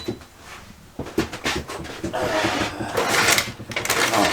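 Wooden drawer sliding open with scraping and rattling of loose items inside, close by, amid rummaging and a voice speaking.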